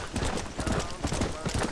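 In Red Dead Redemption, a horse gallops in a quick, rhythmic drumming of hooves, fairly close, with a storm in the game and a player talking over it.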